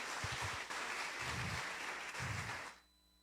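Applause rises from a church congregation in a few bursts of clapping, filling the room for under three seconds before cutting off sharply into near silence.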